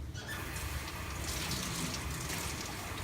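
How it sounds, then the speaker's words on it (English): A sink tap runs full while a bisqueware pottery piece is rinsed under it, a steady close splashing rush of water with no talk. "We need to rinse off the piece to get rid of any dust or oils from possibly our skin transferring onto this."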